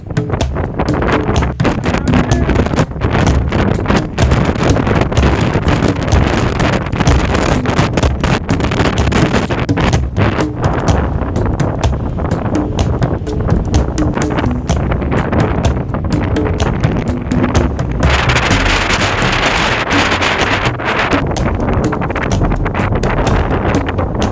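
Strong wind buffets the microphone on a scooter ride through Northern Luzon, a constant loud roaring rush with no letup for the whole stretch.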